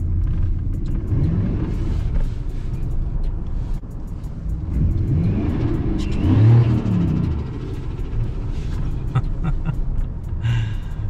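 A 2003 Ford F150 truck's boosted engine rumbles and revs while circling in four-wheel-drive donuts in freezing conditions, the pitch rising and falling in loud, close surges throughout.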